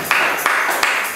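Congregation in a church applauding, with several bursts of crowd clapping swelling and fading over roughly a second, loud and close.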